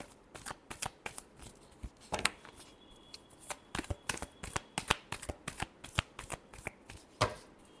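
A deck of tarot cards is shuffled by hand for a reading, producing a steady run of crisp, close riffling flicks and slaps with no talking.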